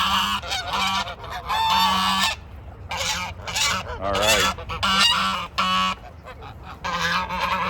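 Geese honk loudly and close by in repeated bursts as black soldier fly larvae are brought out, several calls overlapping, and a voice speaks briefly among them.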